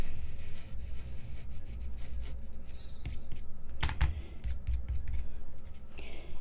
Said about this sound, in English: Sometimes I have to resort to a little sand eraser.